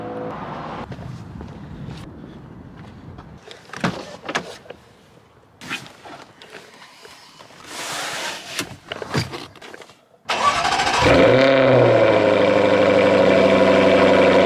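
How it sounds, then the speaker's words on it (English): Jaguar F-Type R sports car fires up after several quiet clicks and mechanical sounds, its engine catching abruptly into a loud, steady exhaust rumble that holds strong and close to the end. "So the sound of that exhaust just never gets old, but it gets better."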